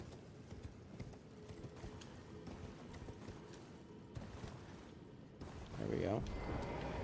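Horse hooves clip-clop steadily in the video game Elden Ring, a continuous rhythmic trotting mixed with game sounds, growing louder and heavier near the end.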